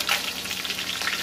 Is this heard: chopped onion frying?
yes